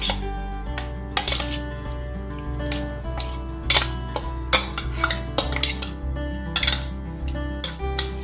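A spoon clinks and scrapes against a bowl while chicken reshmi kebab marinade is mixed, sharp irregular taps and scrapes over a soft steady background hum.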